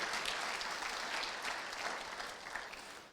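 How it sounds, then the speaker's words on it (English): A church congregation breaks into sustained applause during a sermon, a dense, steady wash of clapping from many hands that fades slightly toward the end. "Come on, clap for Him."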